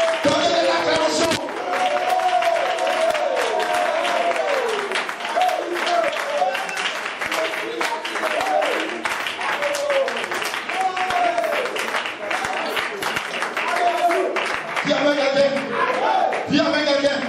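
A congregation claps and cheers at a lively church worship service, the applause continuous and dense for a long stretch with voices shouting and singing over it.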